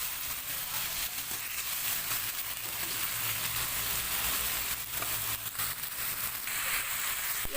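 Tomatoes and spices fry in hot oil for potato and capsicum curry, giving a steady, close sizzle throughout with soft scraping as the pan is stirred, and no voices.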